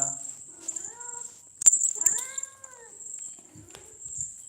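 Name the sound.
cat meowing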